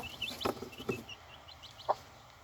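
A hen gives short, soft clucks while being held by hand, close by but fairly quiet, in a few scattered bursts.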